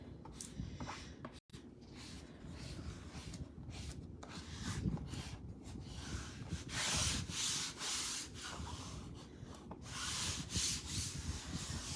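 Close rubbing and scraping as a transfer is smoothed down onto a surface, a steady stroking sound with rhythmic passes and a brief break partway through.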